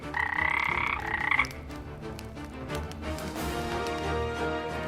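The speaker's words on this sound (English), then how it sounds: "a toad leapt from her mouth and landed on the floor" Toad croaking as a storytelling sound effect: a loud, close, rasping croak opens, then lower, fainter croaks trail off under a soft musical bed.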